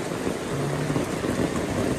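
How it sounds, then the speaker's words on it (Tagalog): Heavy downpour drums steadily around a rural home, a broad continuous roar with a faint low hum briefly running beneath it and no speech. "Dala po ako ng payong kasi napakalakas po ng ulan."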